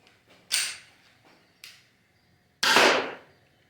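An airsoft Glock 45 Gen 5 replica pistol fires while its gas runs low: three sharp, close pops spaced over a few seconds, the first and last strongest and the middle one weaker, with no voices.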